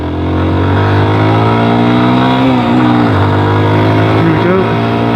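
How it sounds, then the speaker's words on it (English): A Lexmoto Isca motorcycle engine revs loud and steady while climbing a hill, held high in third and fourth gear, its pitch sliding and rising as it pulls hard, with a faint voice in the background. "I'm deliberately running the third and fourth gear right up to the top"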